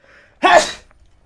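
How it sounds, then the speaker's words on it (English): A single loud sneeze bursts out close up with a short sharp inhale and quick release, followed by quiet. "That was a loud sneeze"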